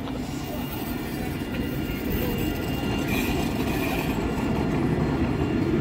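Tram pulling into Old Market Square, a continuous loud rumble of wheels and rail noise building steadily over several seconds, with faint street ambience behind it.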